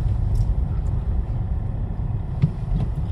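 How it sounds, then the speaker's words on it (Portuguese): Cars roll onto a ferry at an island crossing in Finland, a low steady engine rumble with faint mechanical clanks and a brief thump, heard from close by without talk. "Os carros entrando, eu vou entrar na balsa."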